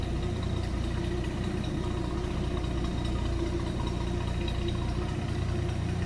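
A 1959 Dodge Coronet four-door sedan with an inline-six engine idles steadily at its exhaust, giving a low, even rumble that stays constant and fairly quiet throughout, with no talking.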